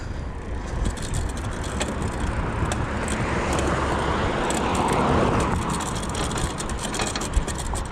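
Steady road traffic rolling past a heavy truck waiting in its mid gear on a hot work run, a continuous broadband roar of vehicles lasting throughout with a swell in the middle and a brief click near the end.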